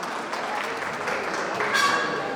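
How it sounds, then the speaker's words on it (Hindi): Brief applause from a kavi sammelan audience welcoming the poet Abhishek Nishkarsh, a dense wash of clapping at close range with no voices over it. "अभिषेक निष्कर्ष साहब के सामने आप लोग तालियां बजाकर उसका स्वागत"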